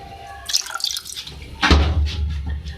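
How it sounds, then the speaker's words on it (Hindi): Water pours from a glass into a pot of beef and arvi, a brief splashing start followed by a steady, close gurgling stream. "इसमें मैं 2 गिलास पानी ऐड कर रही हूँ"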